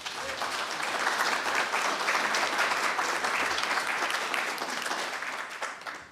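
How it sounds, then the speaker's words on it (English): An audience at the 2023 Heart of Westminster candidate forum applauds loudly and steadily, a dense wash of clapping that holds for several seconds before tapering off at the end. "Please give him a big round of applause."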